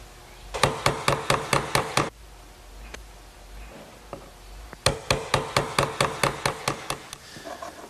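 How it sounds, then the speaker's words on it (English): Sharp chisel squaring up the back corners of a wooden Shaker wall clock case, struck in two quick runs of about six and ten crisp taps with a brief pause between, close and fairly loud. "use a nice sharp chisel to square up the back corners"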